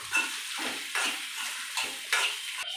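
Eggs with garlic and black pepper frying in a pan for egg fried rice, close sizzling broken by several stirring scrapes, no voices.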